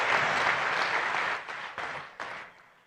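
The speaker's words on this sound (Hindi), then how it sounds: "एक बार ताली बजा के उनका स्वागत कीजिए" An audience at the grand opening of an agricultural exhibition in Nagpur gives a dense burst of applause that fills the hall. It thins and fades over the last second.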